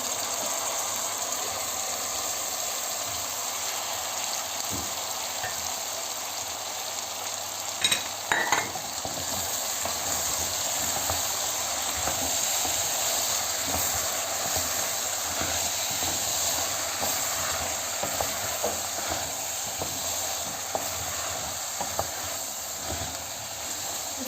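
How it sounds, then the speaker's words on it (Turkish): Two cups of pre-boiled chickpeas fry in a pan with a steady, even sizzle and hiss, broken by occasional scraping stirs, with no one speaking. "Önceden haşlamış olduğum 2 su bardağı nohutumu ilave ediyorum. Biraz da bu şekilde çevireceğim."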